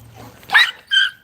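Americane da Presa dogs give two sharp, close barks about half a second apart after a quiet moment of low background noise.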